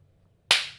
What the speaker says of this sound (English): That's a very formal clap too.